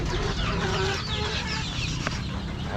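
Chickens cluck in a continuous busy chatter while being fed, several birds close by making overlapping clucks and calls over a dense background.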